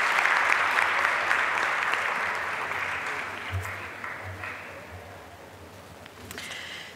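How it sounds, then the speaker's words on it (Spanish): Applause from a school debate competition audience fills the hall, strong at first and slowly fading, with a voice briefly heard beneath it near the end. "Le damos un fuerte aplauso y las gracias al Colegio Hispano-Británico de Iquique."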